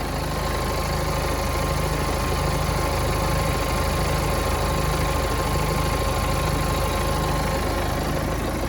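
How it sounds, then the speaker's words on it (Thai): A 2012 BMW 320d Sport's diesel engine idles steadily and loudly for several seconds, with a constant low rumble and vibration throughout and no voices. "ฟังเสียงเครื่องยนต์สักแป๊บหนึ่งนะ"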